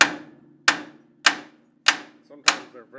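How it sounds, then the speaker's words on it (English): Five sharp metallic hammer blows knock on a front suspension part of a 1965-1970 Chevrolet Impala/Caprice, evenly spaced about every 0.6 seconds, each ringing briefly before decaying, close and loud with no talking. "sometimes you can just knock these with a hammer"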